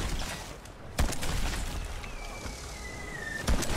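Ship cannons fire in the naval video game Battlewake, booming blasts over a dense, roaring wash of battle noise and spray, with a couple of heavier thumps standing out and a faint whistling tone sliding down partway through.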